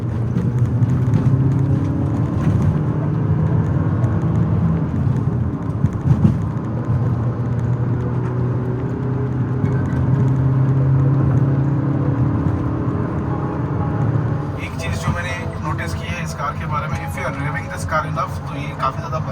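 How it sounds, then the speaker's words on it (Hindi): A Maruti Grand Vitara Delta's engine runs at a steady, loud idle-to-rev drone with a low rumbling hum throughout, then shifts into a brighter, rattling tone near the end. "अब मैं इस कार को वापस रेव करता हूँ"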